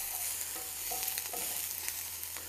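Onions and garlic sizzle in olive oil in a pot for Texas-style chili, giving a soft, continuous frying hiss with light stirring scrapes, close but quiet.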